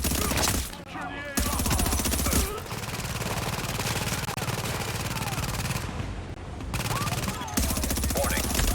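Sustained automatic gunfire from a firefight in The Division, with bursts of rapid shots and a brief lull around the second and sixth seconds, loud and continuous, with game voice callouts mixed in.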